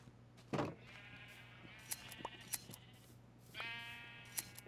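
Minecraft sheep bleating, several short wavering bleats spaced through the stretch, one near the start and a longer one toward the end, over faint game ambience with small clicks.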